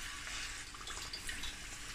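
Battered fish lowered into hot frying oil for fish and chips, giving a dense steady hiss and crackle of sizzling throughout, close and fairly loud, with no talk.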